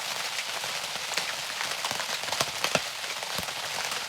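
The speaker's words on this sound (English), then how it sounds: "listening to the rain hit against the canvas" Steady rain patters on a canvas tent at a summer camp, a dense soft hiss with scattered sharper drops, close and even throughout with no voices.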